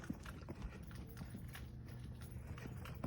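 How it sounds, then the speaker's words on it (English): Hooves of a donkey walking on a road clip-clop in a steady uneven rhythm, faint to moderate and fairly close, against a constant outdoor wind-like hiss. "There's a freaking donkey in the road."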